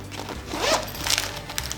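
A zipper on a small first aid kit is pulled open in one quick, raspy stroke, close up, followed by faint handling rustles.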